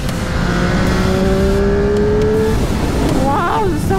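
Triumph Street Triple 765R motorcycle engine revving loud and close, a steady rising engine tone that climbs and then drops with shifting pitch, filling the whole clip.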